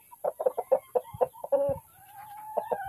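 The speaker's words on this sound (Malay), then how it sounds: "Pak Long hanya buat dan simpankan ayam-ayam ni dalam lau-lau yang mengikut dia punya jenis" Chickens in a backyard coop clucking in quick bursts, a run of short, close, loud clucks followed by a drawn-out crowing call, with no talking over them.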